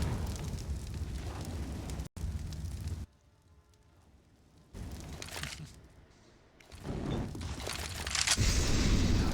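Grenades exploding in a Counter-Strike match on Vertigo, heard as heavy rumbling booms and roaring blasts that break off into sudden quiet gaps and then come back loud.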